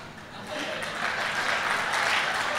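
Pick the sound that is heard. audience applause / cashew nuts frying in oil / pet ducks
audience applause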